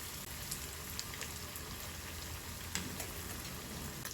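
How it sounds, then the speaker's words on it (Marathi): Potato rolls deep-frying in hot oil, a dense, steady crackling sizzle with scattered sharp pops, fairly quiet and heard on its own. "आता या ठिकाणी आपण हे पुढचे रोल पण सोडून घेऊया यामध्येच म्हणजे हे खूप छान फ्राय होतील"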